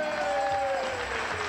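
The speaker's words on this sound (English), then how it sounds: "How about a nice round of applause" Steady applause from a crowd at a polka performance, a dense even clatter of clapping with a sustained tone ringing underneath.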